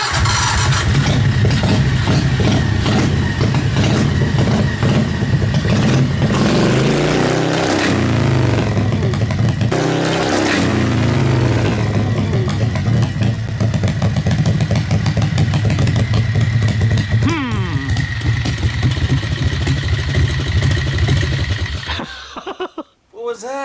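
A 670cc off-road go kart engine revving hard in high range, a loud, close, continuous roar surging and falling, with voices over it before it cuts off abruptly near the end.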